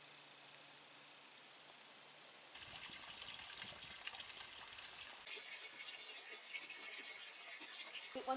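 Creek water on land being cleared of thorns for a new cabin, a steady broadband trickle and splash that starts faintly, then grows louder and more textured partway through, continuing alone without any talking.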